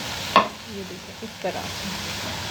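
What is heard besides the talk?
cabbage being sautéed and stirred in a pan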